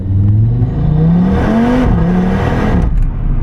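An Audi RS3 with a 294 kW five-cylinder engine drives past loud and close. Its warbling engine note rises and falls as it accelerates through the gears, with no voices over it.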